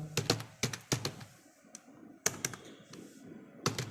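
Names being typed into an Excel sheet on a computer keyboard: clusters of quick, crisp key clicks in short bursts separated by brief pauses, close and clear with no talk.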